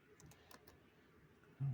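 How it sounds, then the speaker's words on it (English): A few soft, quick keyboard taps click faintly and irregularly in a quiet room, followed by a sudden low thump at the end. "It's a hard time typing this."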